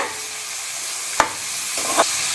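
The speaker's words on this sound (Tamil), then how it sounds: "வெங்காயம் நல்லா கோல்டன் ஃப்ரை ஆகிற வரைக்கும் வதக்கிட்டே இருங்க" Finely chopped onions sautéing in a pan for crab masala gravy, a steady close sizzle with two brief scraping stirs of the spoon cutting through, no voices.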